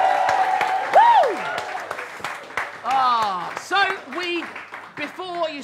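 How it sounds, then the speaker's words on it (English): Applause and clapping roll on underneath cheering and whooping voices, with people shouting excitedly over the crowd. "Give it another round of applause for the long run!"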